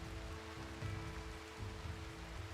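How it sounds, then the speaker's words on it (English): Steady rain falls in the video game Rimworld, a constant hiss of drops on a surface with a low rumbling bed, even and unbroken throughout. "if we were to stand in this rain for too long, we would start problems as well"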